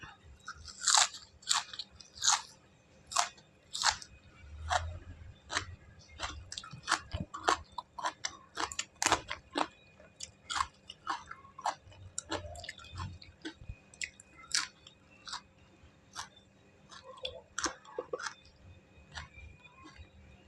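Someone chews and bites into a spicy Thai seafood salad up close, with repeated crisp crunches and wet smacking bites in an uneven rhythm that lasts the whole stretch without talking.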